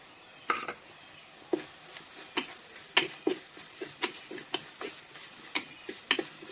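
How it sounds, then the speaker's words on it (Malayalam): Chilli powder and coriander powder masala for mushroom roast sautéed in a pan, with a soft sizzle under repeated sharp scrapes and taps of a spoon at an uneven rhythm, close up. "മുളക് പൊടി മല്ലിപ്പൊടിൻ്റെ മണം മാറുകയോളം ഒന്ന് വഴറ്റിയെടുക്കുക"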